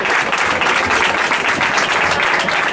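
Steady, dense applause from an audience at a tribute to striking Movistar contract workers, loud and continuous throughout with no talking over it.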